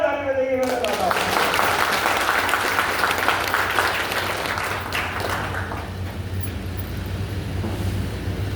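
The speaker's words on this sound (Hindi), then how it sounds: "एक बार जोरदार ताली बजाइए" Seminar audience applauding loudly in a hall, a dense wash of clapping that swells quickly, holds for several seconds, then slowly fades.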